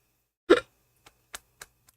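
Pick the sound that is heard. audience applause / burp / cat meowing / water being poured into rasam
burp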